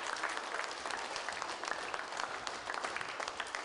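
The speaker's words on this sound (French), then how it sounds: "Et on l'applaudit encore très fort." A room full of people applauds, dense rapid clapping sustained at an even level throughout, moderately close.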